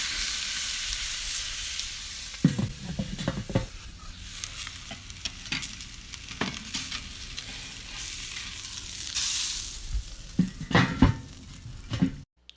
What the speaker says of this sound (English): We're going to grill the fish 3 to 5 minutes per side